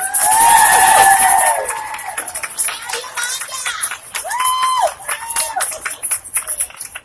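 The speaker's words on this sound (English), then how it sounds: "Please give a round of applause for Yolanda Dandridge." A crowd at the 2018 Denver Black Women's March gives a short burst of loud clapping and cheering that quickly fades, followed by scattered shouts and voices from the outdoor gathering.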